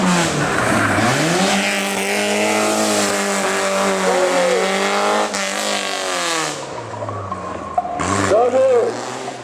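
A rally car on an asphalt gymkhana stage drives loud and close, its engine droning and shifting pitch as it accelerates, with a brief squeal near the end and voices talking over it throughout.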